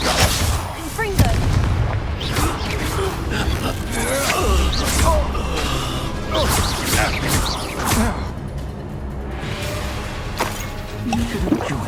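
A Confringo fire spell blasting in Hogwarts Legacy amid a wizard duel, loud booming impacts and crashing bursts with creaking debris, a voice shouting spell names over the fight.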